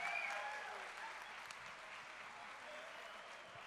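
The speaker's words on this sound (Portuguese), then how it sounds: "Aplauda o Senhor" Congregation at a Sunday church service applauds in a steady, even wash of clapping, fairly faint and slightly distant, easing off a little toward the end.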